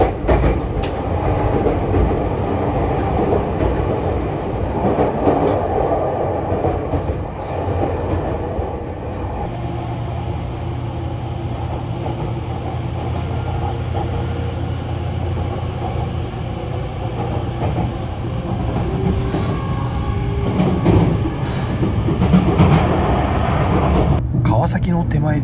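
An Odoriko limited express train runs through Shinbashi station with a continuous rail rumble and clatter heard from onboard, while a voice talks over it throughout.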